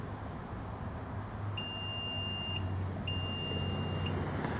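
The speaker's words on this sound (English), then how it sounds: "hold this button on the left and listen for the beeps." A 2026 Nissan Rogue SV power tailgate gives two long, steady electronic beeps about a second apart while its height is being set, clear and close over a low background hum.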